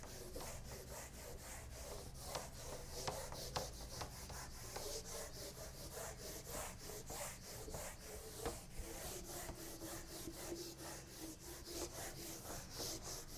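A duster rubs steadily across a classroom board to erase writing, giving a continuous close scraping with rapid back-and-forth strokes and no talk over it.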